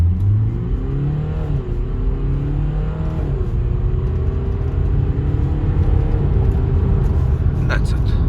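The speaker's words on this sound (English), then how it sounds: "Let's put in the sport mode, drive, and 0 to 100." A BMW 525d F11 LCI estate with a 215 bhp diesel accelerates hard from 0 to 100 km/h in sport mode, the engine droning steadily from inside the cabin and rising through the gears, with a person talking over it.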